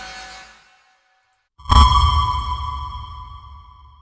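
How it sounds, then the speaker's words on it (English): A static ping sound effect from a kinetic sound design library: a short soft tone fades out, then after a pause a loud sharp hit with a low thump and bright ringing overtones rings out and decays slowly. "static ping."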